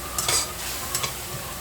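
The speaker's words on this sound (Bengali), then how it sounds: "এখন মশলাটা ভালো করে কষাই না," Masala spice paste for a tomato-based poa fish curry being stirred and fried in a pan, with two short bursts of scraping and sizzle standing out over a low steady background, close by with no talk.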